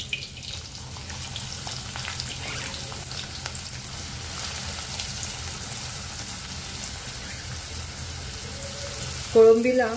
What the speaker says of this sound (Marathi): तर तेल चांगलं तापलेलं आहे. आता कांदा घालून घेऊया.